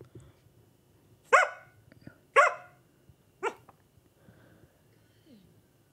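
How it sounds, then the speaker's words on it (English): An Australian cattle dog barks three times in sharp, loud, evenly spaced bursts, with quiet pauses between them and a softer sound afterward. "We interviewed the dog."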